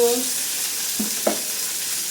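Bitter gourd fries in hot oil with black cumin, giving a steady close sizzle with a couple of soft stirring clinks partway through.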